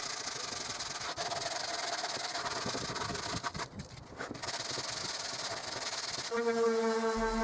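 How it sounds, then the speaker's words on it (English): Sandpaper rubs back and forth by hand on pallet wood in steady rasping strokes, pausing briefly midway, before a motor hum starts at the end. "And did a bit of hand sanding too."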